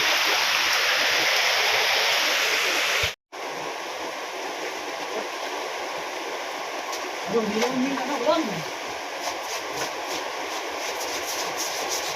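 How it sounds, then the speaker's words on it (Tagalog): Floodwater rushing past a farmhouse in the countryside, a continuous loud broadband roar with a brief cut partway through and faint voices midway. "baha"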